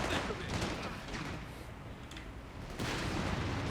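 Battle gunfire in the strategy game Company of Heroes 3, a dense, rumbling wash of distant volleys and shots that swells, dips slightly mid-clip, then surges again, fairly quiet overall.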